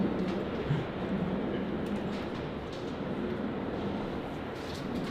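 A subway train runs on rails, a steady loud rumble and roar with dense low-frequency noise lasting throughout, close by and without talking.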